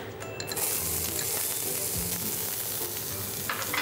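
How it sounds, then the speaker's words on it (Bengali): Chopped onion frying in hot extra virgin olive oil for an Italian dish, a dense steady sizzle with faint stirring clicks, close and continuous throughout. "তেলটা গরম হয়ে এলে তারপর আমরা এখন অনিয়ন চপ দেব"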